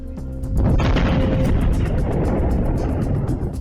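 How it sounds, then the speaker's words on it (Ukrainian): A loud, deep boom from explosions near a military base in Bakhchysarai, Crimea, erupts after a brief quiet start, then a sustained heavy rumble rolls on without pause. "Хлопки в районі військової частини в Бахчисараї."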